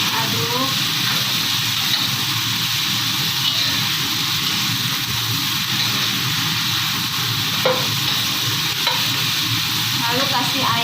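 Luffa (oyong) frying in a pan, with a dense, loud, continuous sizzle and occasional scraping stirs of a utensil against the pan, close up. No one speaks.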